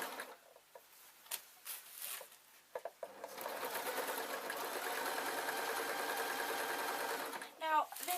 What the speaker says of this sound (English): I'm going to sew a fold over